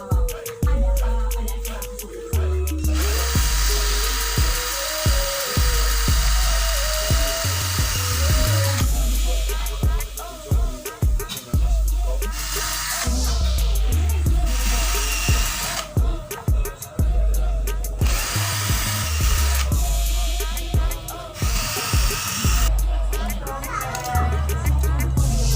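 A power drill bores holes in a homemade oil-draining spinner, the motor whining up and down in repeated bursts of several seconds, with pauses and handling clatter in between.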